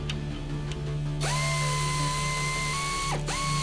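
Power tool driving the lower strut mounting bolt on a 2004 Ford Taurus SES during a Monroe Quick-Strut install, a loud steady whirring drill whine that ramps up, holds, and briefly dips near the end.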